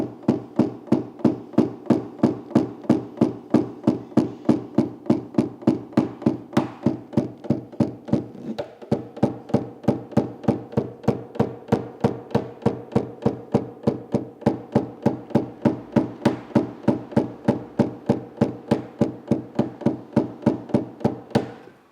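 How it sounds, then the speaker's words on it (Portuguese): Rapid, evenly spaced hammer taps on a car dent's metal panel, continuing at a steady rhythm for a long stretch, close and fairly loud. "Bateria mais forte, tanto com martelo de borracha, quanto com pino, quanto com o martelinho"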